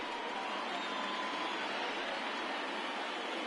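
A baseball stadium crowd of over 39,000 on their feet cheers and applauds in a steady, distant roar of massed voices and clapping that holds at an even level throughout.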